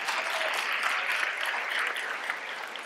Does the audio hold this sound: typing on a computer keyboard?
no